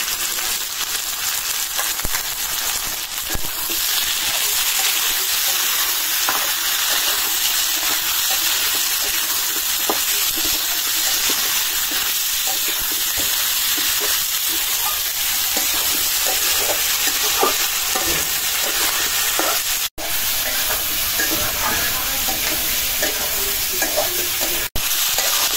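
Tomato and green chili sizzle in a pan with already-fried potato and onion, a steady close frying hiss with occasional stirring scrapes and a couple of sharp clicks.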